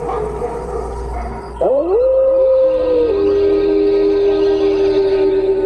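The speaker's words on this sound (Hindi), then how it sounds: "तभी देखते हैं कि राजा के कमरे की खिड़की के बाहर बहुत सारे कुत्ते आ चुके हैं।" Several dogs howl outside a window, and one long rising howl settles into a steady sustained tone. The sound is loud and close over a dense, noisy background.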